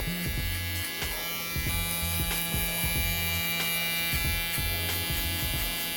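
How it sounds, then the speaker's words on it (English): An electric hair trimmer cuts hair during a low taper barber cut, buzzing steadily and close up with rapid rhythmic pulses as it flicks upward, with no talk. "Our trimmer is less sharp in this position, and I'm gonna be flicking out towards the top."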